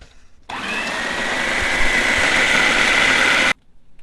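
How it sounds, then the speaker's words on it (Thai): A blender whirs steadily for about three seconds, starting and stopping abruptly, as it purees coriander root, garlic, and red spur and bird's eye chilies for a stir-fried Sichuan-style tofu with minced pork. "รากผักชี กระเทียม พริกชี้ฟ้าแดงพริกขี้หนูแล้วก็นำไปปั่นนะครับ"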